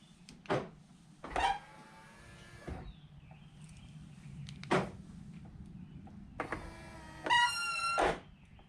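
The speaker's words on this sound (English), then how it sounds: "when you lock or unlock it, the mirrors fold in and they make squeaky noises" Power-folding side mirrors on a 2024 Volkswagen Tiguan 1.4 TSI DSG Life whir in on locking and out on unlocking, with short squeaky, creaking motor noises in several bursts against a quiet background.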